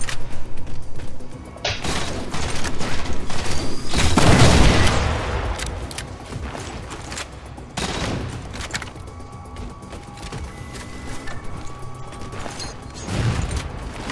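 Halo 4 multiplayer gunfire, including needler fire, in rapid, loud bursts of shots and mechanical clatter, with a heavy boom near the middle and scattered shots trailing off afterward.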